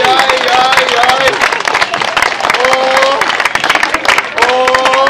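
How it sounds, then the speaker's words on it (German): Lively audience applause at a clown show in the Kulturbrauerei, dense continuous clapping with cheering, while a performer calls out over it. "Applaus!"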